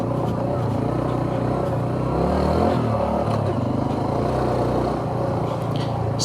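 A Honda CT125 motorcycle spins its rear wheel in mud, the engine revving steadily and close with a rough churning rumble that swells briefly midway, while a rider talks over it.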